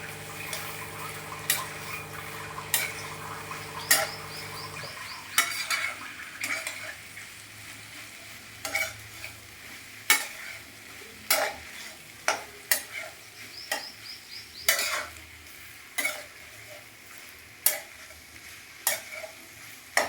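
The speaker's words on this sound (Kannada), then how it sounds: "ಈಗ ಹಾಗಲಕಾಯಿ ಹಾಕಿದ ನಂತರ ಮಿಕ್ಸ್ ಮಾಡ್ತಾಯಿದ್ದೀನಿ." Bitter gourd being stirred in a pan, a soft sizzle with repeated sharp scrapes and clinks of a spoon against the pan, coming at an irregular rhythm.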